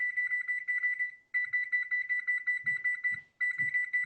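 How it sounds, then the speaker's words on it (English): Electronic kitchen timer beeping in a home during a baking session, a steady rapid run of high beeps in two bursts with short gaps, close and clear, with faint low knocks underneath. "Sorry for the beeping."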